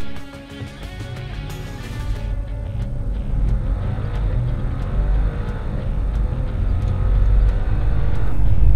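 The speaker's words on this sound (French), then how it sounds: "Donc à tout de suite au volant de la RS7 ce coup-ci pour essayer de faire aussi bien que Bobby sur le circuit d'Ascari." An Audi RS7 Sportback, a powerful sports sedan, drives on the Ascari race circuit; a sustained engine roar builds steadily in loudness as the car accelerates, heard close with no talk.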